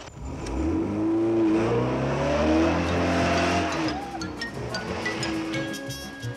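A car pulls away with an engine revving up and rising in pitch, tires squealing briefly as it accelerates off, loud and close before fading slightly into the distance.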